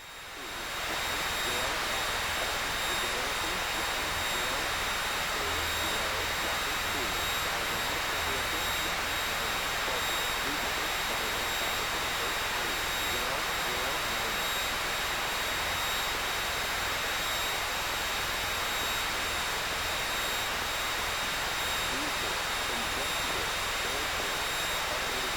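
A Piper Cherokee 180 light aircraft engine drones steadily and loudly throughout in flight around an airport pattern, a dense continuous roar with radio-style talk heard over it.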